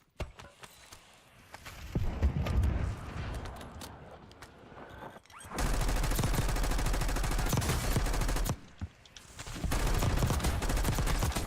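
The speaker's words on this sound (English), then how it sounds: "How horrible is that shooting?" Gunfire rattles in Call of Duty Warzone: sharp bursts of automatic shots come in loud, separated volleys with brief quieter gaps between them, and no voices over them.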